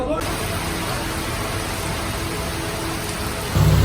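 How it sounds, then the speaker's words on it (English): Heavy rain pouring down in the Rocinha favela of Rio de Janeiro, a dense steady hiss of downpour throughout, close and loud, with a low thump near the end. "It's pouring down rain now"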